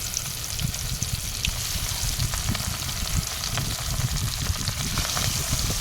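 Fish sizzles and crackles steadily in hot oil in a home kitchen, a dense continuous frying hiss with scattered pops, close and fairly loud.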